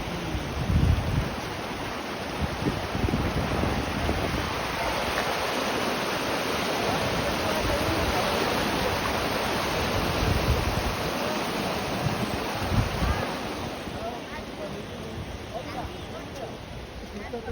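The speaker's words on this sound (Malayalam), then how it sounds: "അവിടെയാണ് ആ വെള്ളം ചാട്ടം" Steady rushing water roars throughout from Motherland Waterfall in Cheroor, Thrissur, close by, with a voice talking over the constant noise.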